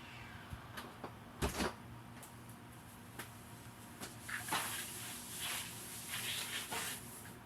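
A door swings shut with a single soft thud in a quiet room, followed by faint rustling and light handling noises.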